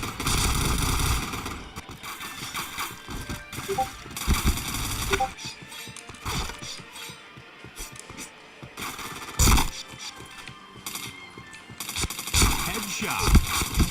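Dense, rapid gunfire in a shooting video game as the player chains headshots, with loud, overlapping bursts of shots and impacts running almost continuously.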